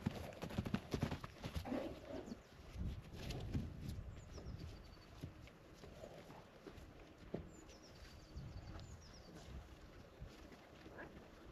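Hooves of a small but strong horse clip-clopping at an uneven walking pace outdoors, fairly close, with wind buffeting the microphone and no talk.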